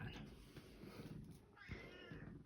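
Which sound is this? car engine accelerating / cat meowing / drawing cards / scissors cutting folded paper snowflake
cat meowing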